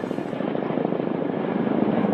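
A Black Shark attack helicopter flies past with a loud, steady rotor thump and engine roar that holds close and strong throughout.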